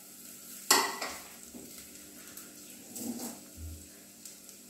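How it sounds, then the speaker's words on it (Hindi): Crushed ginger and garlic sautéing with onions in a pan for Bombay duck masala, with a sharp sizzling burst as they go in, then soft stirring scrapes and a low steady frying hiss. "हम इसको अच्छी तरीके से भून लेंगे प्याज के साथ में"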